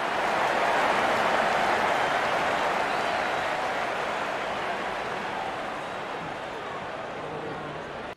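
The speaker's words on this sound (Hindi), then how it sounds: "दर्शक इस 50 रन को अपने तालियों से सराहते हुए" A cricket stadium crowd at a Chennai Super Kings match applauds a batter's fifty with a dense, sustained wash of clapping that slowly fades over about eight seconds.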